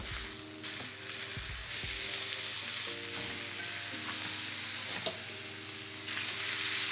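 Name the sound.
steaks searing in a hot pan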